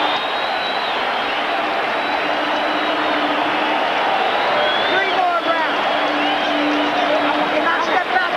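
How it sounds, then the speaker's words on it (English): Dense, steady roar of a boxing crowd cheering and applauding during round 9 of Felix Trinidad vs. Fernando Vargas, continuous and loud throughout, with a commentator's voice running over the noise. "standing and applauding both fighters"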